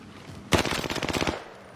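Video game gunfire rings out as a short automatic burst of rapid shots, sharp and close, about a second long with no talk.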